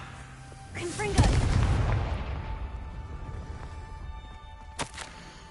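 Confringo spell blasts in a Harry Potter video game: a loud booming burst with a crackling decay lasting a couple of seconds, followed later by a sharper, brief pop, over low game ambience.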